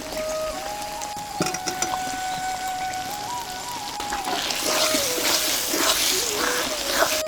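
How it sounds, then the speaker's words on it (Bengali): Water runs and splashes into a bowl as it is rinsed and filled while cooking a jackfruit curry, a steady close wash that grows louder and splashier toward the end, with a faint tonal hum underneath. "বাটিটা ধুয়ে একটু জল দেবো"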